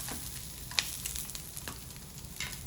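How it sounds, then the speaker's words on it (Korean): Onions and shallots frying in oil, a steady close sizzle with a few small crackles and stirring taps, no voices. "양파를 넣어주고 샬롯도 같이 넣어서 익혀줍니다"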